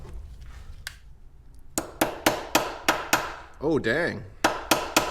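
A hammer strikes metal while a part is fitted on a Honda 400ex ATV. A few isolated blows come first, then a steady run of sharp, ringing hits close by. A voice speaks briefly in the middle.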